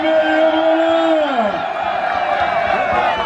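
A bullfight crowd cheers and whoops for the bull Ođaba at a 2023 korida in Zimča, heard as a loud, continuous roar with a long sliding shout and a voice over the top.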